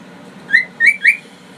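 A pet bird gives three quick, bright whistled notes close by, each a short rising chirp, over a quiet indoor background.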